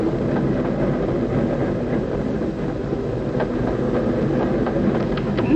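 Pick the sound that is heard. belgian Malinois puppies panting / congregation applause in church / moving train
moving train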